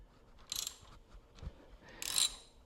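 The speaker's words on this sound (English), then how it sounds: "we're going to loosen these 2 bolts here on the handlebars, on the risers" A hex bit socket on a ratchet loosening handlebar riser clamp bolts on a Suzuki DRZ400 SM motorcycle, with two quiet bursts of ratcheting clicks separated by faint metallic handling.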